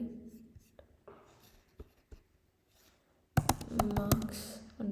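Computer keyboard typing: a few faint scattered taps early on, then a dense burst of loud, rapid keystrokes in the final second and a half, close and clear with no talk over it.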